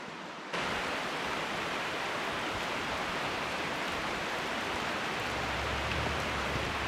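Rain pours steadily beside a river with rapids where someone is fishing, a dense, even hiss that starts abruptly and then holds unbroken, close and enveloping, with no voices.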